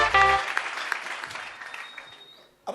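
A church congregation breaks into applause, a broad wash of many hands that starts strong after a brief voice and gradually fades away.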